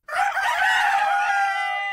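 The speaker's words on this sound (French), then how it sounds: "Les coqs de Moorea, réveillés par les vibrations de la lance, se mirent à chanter" A rooster crows loudly and close on Moorea, one long drawn-out cock-a-doodle-doo with no other sounds around it.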